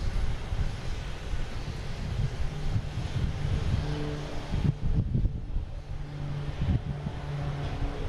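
An airplane at Boston Logan airport roars on takeoff, a broad steady engine rumble at moderate distance that swells and eases, with no talking.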